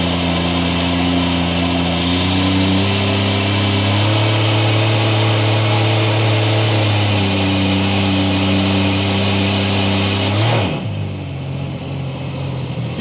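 A supercharged 325 outboard engine runs on a 14-foot Trident boat, a loud, steady mechanical drone whose pitch steps up and down with throttle changes before dropping sharply to a lower idle near the end, no speech.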